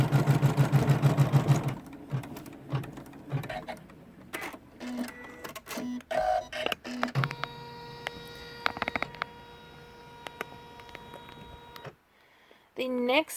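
An in-the-hoop embroidery machine stitches a notebook cover, its needle running in a fast steady rhythm at first, then pausing in short bursts, with a long stretch of even whirring before it stops.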